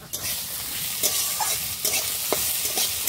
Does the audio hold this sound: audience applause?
no